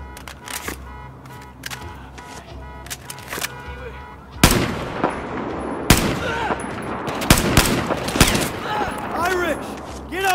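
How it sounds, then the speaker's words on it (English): Battlefield 4 on Xbox One: bursts of rapid gunfire and heavier blasts from a firefight, with sharp shots throughout and louder impacts partway through, under shouted voices. "Engaging! Good shooting, Wrecker!"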